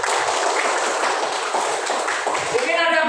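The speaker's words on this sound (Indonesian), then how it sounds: "Tepuk tangan." An audience of children at a school lesson claps their hands in a dense, continuous patter of applause, moderately loud, with voices mixed in toward the end.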